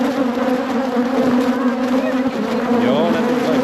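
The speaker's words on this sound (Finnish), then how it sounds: "vois sanoa, että semmonen aika vihaane mehiläispesä" An angry honeybee hive buzzes loudly and continuously, a dense swarm drone close to the microphone with individual bees whining past, while people talk over it.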